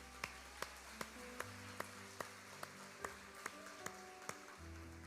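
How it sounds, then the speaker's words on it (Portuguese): A church congregation claps in a steady rhythm, about two claps per second, over soft sustained music. The crisp, regular claps stay fairly faint. "Aplauda aquele que reina."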